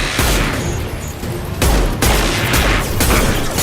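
Heavy gunfire from Mass Effect 2 fills the whole stretch, a dense barrage with sharp cracks standing out above a constant low roar. It stays loud from start to finish.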